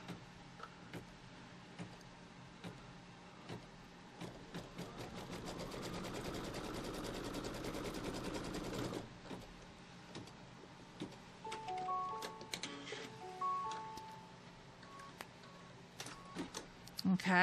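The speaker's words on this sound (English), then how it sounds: "now it's going to stitch a line from here down to there" An embroidery machine stitching a straight line across a Kimberbell Pumpkins & Potions quilt block, its rapid needle ticking building to a steady whir, then slowing into intermittent clicks and beeps.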